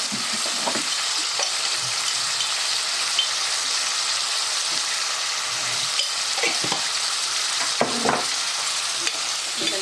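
Masala prawn ingredients with capsicum slices, tomato and salt being stirred in a hot pan, a continuous sizzle with soft scraping spoon strokes throughout and no voices.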